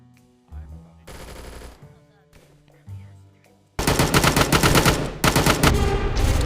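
Gunfire during a VR Chat prison escape game, heard as a dense, loud burst of rapid shots in the second half, with quieter game sounds and tones before it.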